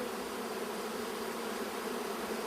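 A honeybee colony hums in a steady, dense buzz of many workers, close and continuous with no voices.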